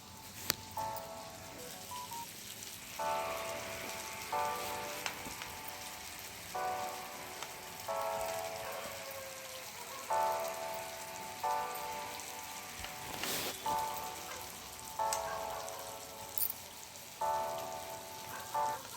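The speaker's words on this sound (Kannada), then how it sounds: "ಈ ಥರ ಕ್ಲೀನಾಗಿ ತುಪ್ಪದಲ್ಲಿ ಫ್ರೈ ಮಾಡ್ಕೊಳ್ಳಿ ಎರಡೂ ಕಡೆ." Marinated prawns shallow-frying in ghee give a soft, steady sizzle and crackle with faint intermittent tones over it, quiet and continuous throughout.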